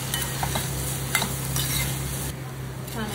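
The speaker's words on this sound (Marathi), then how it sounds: "थोडंसं ओलं खोबरं घालते मी, मिक्स करून घ्यायचं थोडं।" Okra stir-fry in a pan, just topped with fresh grated coconut, is stirred with a spatula, giving gentle scraping strokes over a low sizzle and a steady background hum.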